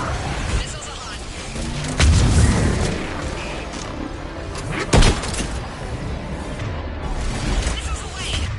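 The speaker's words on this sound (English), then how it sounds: "Missiles away." Missiles launch in Mass Effect with heavy booming blasts, one deep rumble followed a few seconds later by a sharp burst, amid continuous battle noise and voices talking.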